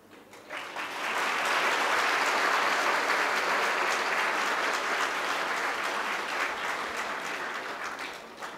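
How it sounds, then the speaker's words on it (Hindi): Audience at a Hindi poetry gathering (kavi sammelan) in Kanpur breaking into applause, swelling quickly into loud sustained clapping that holds steady for several seconds before easing slightly. "पहली लाइन पर तालियां जोरों से क्यों नहीं आ?"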